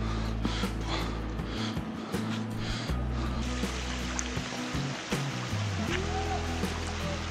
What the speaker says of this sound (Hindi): यहाँ से पानी आ रहा है ऊपर से ऐसे और नीचे जा रहा है